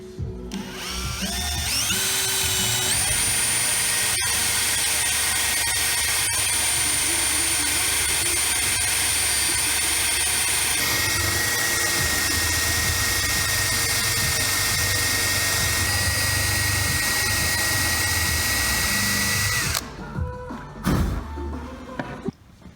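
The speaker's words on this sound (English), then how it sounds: "So I've got these holes drilled." A power drill boring holes for LED strip wires inside a Toyota 86, whining loud and steady at close range for most of the stretch before stopping, followed by a few short clunks.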